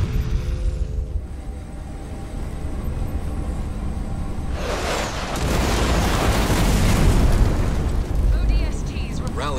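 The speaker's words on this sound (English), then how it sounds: "We've destroyed an enemy structure." Enemy structure blown up in the Halo Wars 2 video game, a deep rumbling explosion swelling in midway and roaring on loudly over continuous battle noise and game sound effects.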